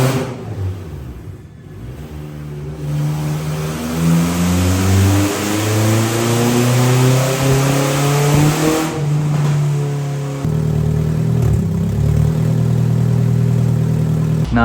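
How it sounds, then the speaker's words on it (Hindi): A car with a Honda K24 engine revs hard on a dyno, the loud engine note climbing through rising harmonics in long sustained pulls, with a brief dip and a steadier high-rpm hold near the end. "गाड़ी को डायनो पे चला के चेक करते हैं कि क्या रिपोर्ट है"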